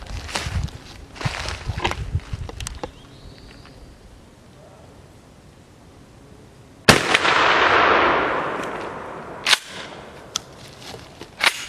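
A shotgun firing 00 buckshot in a long-range spread test: one loud, close blast midway that rings out and decays over a few seconds, with footsteps and handling noise around it.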